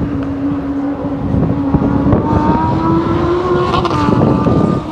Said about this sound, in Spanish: Ahora están saliendo los Lamborghini y todos los coches que hay aquí pasan por ahí